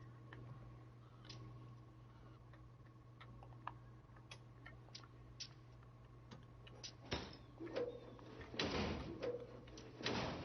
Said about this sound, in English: Engine door.